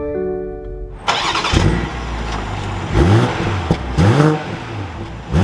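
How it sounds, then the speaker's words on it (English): A 2022 BMW X7 xDrive40i starts with a loud crank and catch, its engine flaring up and then settling, with several more revs rising and falling close by, and no one speaking. "But let's fire this X7 back up"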